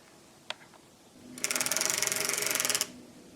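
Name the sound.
needles being set into circular knitting machine cylinder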